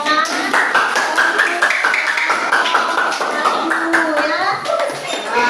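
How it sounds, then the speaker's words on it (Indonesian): Classroom applause from a group of schoolchildren, with many hands clapping and tapping in a dense, steady patter throughout, mixed with a few young voices. "Kita kasih tepuk tangan."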